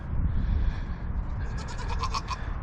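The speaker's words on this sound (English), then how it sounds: "one of these goats is being difficult here" Goats bleat in a short burst of nasal, wavering cries toward the end, heard close over rough, rumbling background noise on a farm.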